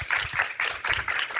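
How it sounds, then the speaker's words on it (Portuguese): A short burst of audience applause at a holistic lecture on guided imagination, a soft, pulsing patter of hands that swells and dips. "por favor, recebam com uma salva de palmas"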